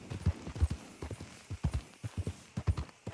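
Horse hooves clip-clop steadily in a video game, a quick even rhythm of close, soft thuds over about three seconds, heard alone.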